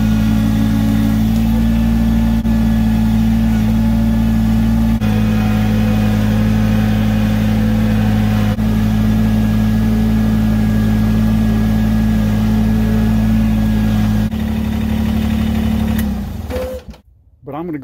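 A small tractor drives along while hauling base rock, its engine holding a loud, steady mid-pitched drone with an even tone, then dropping off and cutting out near the end.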